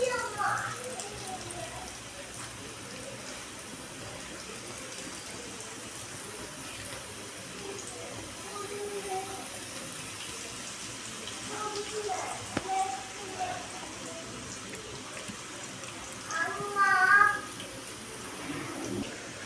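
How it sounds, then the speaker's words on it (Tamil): Chickpea mixture deep-frying in hot oil, a steady, moderate hiss of bubbling oil that holds evenly throughout and swells a little louder near the end. "இப்போ எண்ணெய் நல்லா சூடேறிட்டு நம்ம மிக்ஸ் பண்ணி வச்சுக்கிற கடலையை கொஞ்சம் கொஞ்சமாக போட்டு பொரித்து எடுத்துக்கலாம்"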